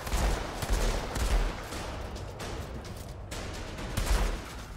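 Dense, continuous gunfire from a weapon in the sci-fi shooter Outriders, rapid overlapping shots and bursts with heavy low-end thumps, loud and close throughout with no talking.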